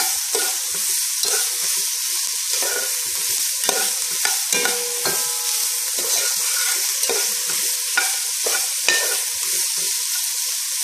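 Pork and sugar for caramel pork are stirred steadily in a hot pan, the spoon scraping in a regular rhythm over a loud, continuous sizzle, close and without speech.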